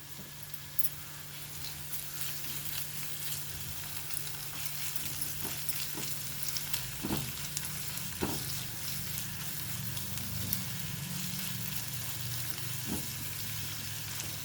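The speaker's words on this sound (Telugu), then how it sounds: "పచ్చివాసన పోయే వరకు వేగించుకోవాలి." Ginger garlic paste fries in a pan for a tomato and broad bean seed curry, giving a steady, dense sizzle with soft stirring scrapes and a few brief clicks throughout, close up and without talk.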